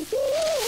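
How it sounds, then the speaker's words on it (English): A cartoon homing pigeon gives a single smooth, rising-and-falling coo, loud and close with nothing else behind it. "That looked like George's friend, Compass, the almost homing pigeon."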